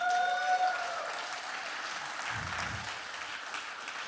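Light scattered applause from a conference audience at a structured content event, fairly faint and diffuse, steady for a few seconds with no one speaking.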